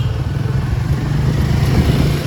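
Steady idling drone of a Royal Enfield Himalayan 450 motorcycle engine, close and loud, a low even rumble with no revving and no voices.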